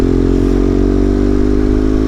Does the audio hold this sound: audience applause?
no